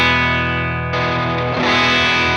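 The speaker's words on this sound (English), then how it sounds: "So this is going to be the tube screamer sound." Tube screamer distortion on a Line 6 HX Stomp drives a loud, sustained guitar chord, thick with harmonics, which is re-struck twice into a brighter, fuller overdriven ring.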